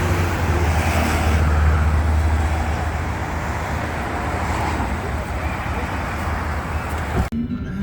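Traffic rumbles steadily near a parking area by Corniche Beach in Abu Dhabi as a car approaches, a loud continuous roadway drone with wind that cuts off abruptly at the end.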